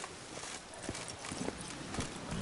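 Horse hooves clip-clop at a steady trot in The Witcher 3, a light rhythmic patter of hoofbeats over a constant ambient background, with no talking during the stretch.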